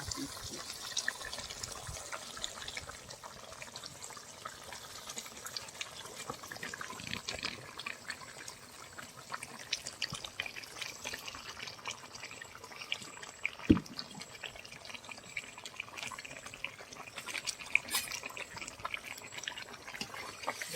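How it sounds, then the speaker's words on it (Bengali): Water is poured into a simmering fish and taro curry, giving a long stretch of steady pouring and splashing with scattered drips and small clinks, fairly faint throughout. "মাছগুলো দিয়ে এবার আমি আর কিছুক্ষণ জল দিয়ে নেব।"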